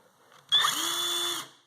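An 18-volt Mastercraft Maximum Ni-Cd cordless drill on its high-speed setting whirs up quickly and spins at a steady high pitch for about a second before winding down, close and fairly loud.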